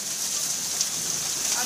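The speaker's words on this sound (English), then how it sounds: "It's hail." Hail pelting down during a storm in Methuen, Massachusetts, a dense steady hiss of ice hitting the ground and a car, loud and close, with a few sharper impacts standing out.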